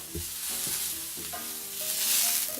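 A piece of tuna sears in a hot pan, giving a steady close sizzle that swells slightly toward the end, with a few soft clinks from a utensil and no voices.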